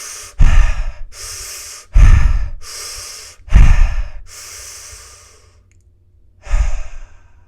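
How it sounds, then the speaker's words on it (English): Four deep breaths, each a long, loud exhale with a breathy sigh, are spaced evenly and heard close up with short pauses between them. "Let's take 5 big deep"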